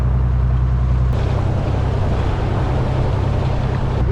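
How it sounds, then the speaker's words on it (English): The dive boat Mary Jo rumbles at sea, with a loud, steady low engine drone and broad wash of wind and water noise continuing unbroken throughout, close and constant. "I hope you can hear this because obviously the boat's rumbling"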